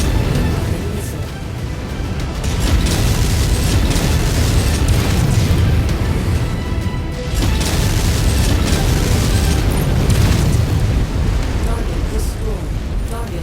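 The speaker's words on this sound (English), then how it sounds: "Incoming missile." Heavy booming missile blasts and mechanical rumble from a MechWarrior 5 Mercenaries battle, with a dense, continuous low roar and repeated impacts over about thirteen seconds, loud throughout with brief radio chatter mixed in.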